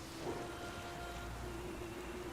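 Steady rain hisses during a storm while sailing in The Witcher 3, a continuous broad wash of falling drops with a faint low rumble beneath, no voices.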